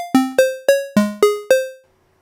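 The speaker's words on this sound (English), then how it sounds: "the synth started with a pulse wave, or a square wave, which sounds like this." A basic pulse or square-wave synth oscillator from a chiptune-style lead plays six bright, buzzy notes in a short melodic phrase. Each note has a sharp attack and a quick decay, and the last one fades into silence.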